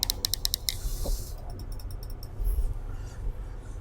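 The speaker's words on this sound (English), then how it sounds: "there's nothing wrong with the button. It's nice and clicky. You can hear it." A rapid series of sharp mechanical clicks from the button of a SMOK MAG vape kit, close and crisp, bursting in quick runs and then repeating more sparsely, with no talking.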